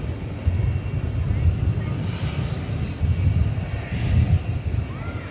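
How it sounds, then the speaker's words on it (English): An MD-11 jet lined up for takeoff on runway 17 Right at DFW Airport at night, a steady low engine rumble with a broad roar that swells slightly, heard at a distance, with people talking over it. "it is lined up to take off, the MD-11 now"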